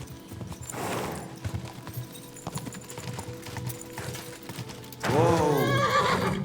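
Horse in the video game Kingdom Come: Deliverance, with hoof clip-clop through the first seconds, then a loud, close neigh near the end over faint background sounds.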